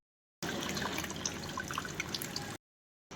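Treated wastewater at a sewage treatment plant falling from a storage tank onto turbine blades, a steady splashing, dripping trickle for about two seconds, moderately quiet, bounded by silence.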